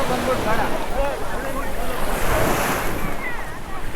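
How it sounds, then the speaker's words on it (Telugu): Waves wash steadily onto a shell-covered beach at St Mary's Island, a constant close surf roar with wind buffeting the microphone. "గవ్వల బీచ్ సెయింట్ మేరీస్ ఐలాండ్లో"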